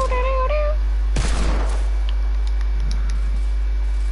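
Desert Eagle pistol shots in a first-person shooter video game, a loud close burst of gunfire followed by a fading echo and softer scattered shots over game ambience.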